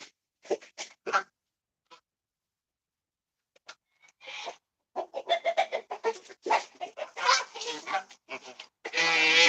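A flock of geese honks in a string of loud, ragged bursts after a few sparse calls and a quiet pause, the honking growing denser and more continuous toward the end.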